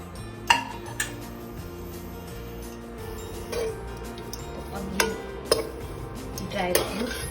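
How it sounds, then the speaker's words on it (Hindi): Dry fruits including pistachio and crushed almonds are tipped into a pan for roasting, producing a handful of sharp metallic clinks and scrapes of a spoon against the pan, close and fairly quiet over a low background hum. "अब हम ये ड्राई फ्रूट्स रोस्ट करेंगे, तो मैं ये एक साथ ही डाल दूँगी"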